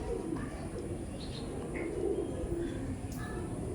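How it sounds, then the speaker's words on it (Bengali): A male Giribaj pigeon coos softly in a close, fairly quiet setting, with a few faint chirps scattered over a steady low background hum. "আর এটা নর পায়রা"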